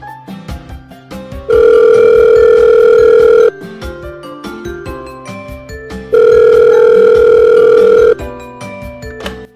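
Ringback tone of a telephone call, two long steady tones separated by a pause, heard over busy background music, fairly loud and clear.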